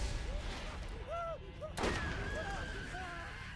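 A grenade blast in Borderlands: a single sharp explosion bursts out mid-clip over a busy bed of game gunfire and warbling sci-fi tones, with the rumble trailing off afterward.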